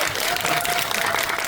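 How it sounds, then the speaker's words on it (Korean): A theater audience at a Netflix film screening and talk event gives a brief burst of applause, dense and steady, filling the short stretch at moderate loudness. "박수 한번 좀 부탁드립니다."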